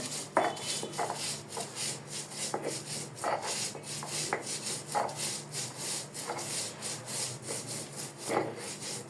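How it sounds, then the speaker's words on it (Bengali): Nigella seeds crushed with garlic and chili on a stone grinding slab, a rhythmic rasping scrape repeating roughly every half second as the grinding stone rolls back and forth, close and steady with no talk. "কালের ইচিরোগুলোকে পাটায় রসুন আর মরিচের সঙ্গে বেটে কালিরা ভর্তা করা হচ্ছে"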